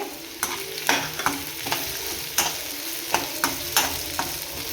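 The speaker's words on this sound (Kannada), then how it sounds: "ಆನಿಯನ್ ಸ್ವಲ್ಪ ಫ್ರೈ ಆಗಬೇಕು, ಟ್ರಾನ್ಸ್ಪರೆಂಟ್ ಆಗಲಿ ಸ್ವಲ್ಪ." Onions frying in a pan for paneer chilli, a steady sizzle broken by regular scraping knocks of a spoon stirring, close and clear with no talk.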